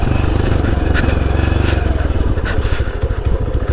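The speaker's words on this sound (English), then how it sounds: "That's the one thing these pit bike engines are quite good for, is engine braking." Honda C90 pit bike engine braking off-road, a loud close four-stroke drone with rapid pulsing and rattling, steady throughout with faint mechanical clatter on top.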